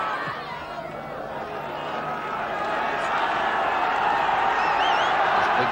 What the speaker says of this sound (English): Big crowd getting behind York City now.